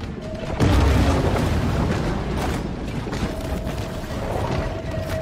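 A torpedo explodes in the video game Maneater with a heavy, deep boom that swells quickly and then rumbles on as a long, loud decay under a low mechanical drone.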